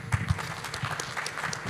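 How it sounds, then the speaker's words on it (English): A brief burst of audience applause for the panelists at the Indonesia Net Zero Summit 2022, a B-20 sideline event, with close hand claps at the start and a steady, moderate clatter after them. "A big round of applause."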